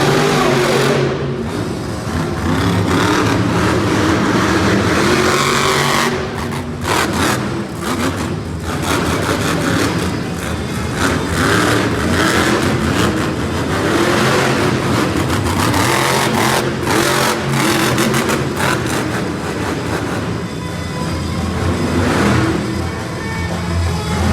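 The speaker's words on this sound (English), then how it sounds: "Next up, from Whittier, California, is Armando Castro driving Toro" Monster truck Toro roaring at a Monster Jam stadium show in Macon, Georgia, its engine revving loud and continuous for the whole stretch, with crowd noise and arena ambience mixed in and no talk.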